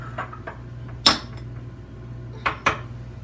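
Turkey seasoning mixed in a bowl, with a few sharp utensil clinks and knocks against the bowl separated by short quiet gaps over a low steady hum.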